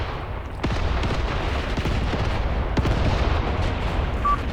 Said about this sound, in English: There's the mortar strike on me shooting